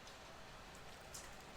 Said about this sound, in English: we're in Seattle. Look at this rain.